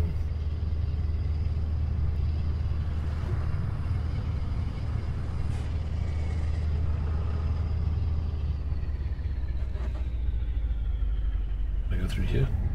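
Steady low truck engine drone from a heavy rig in Euro Truck Simulator 2, constant and close throughout, with a brief clatter near the end.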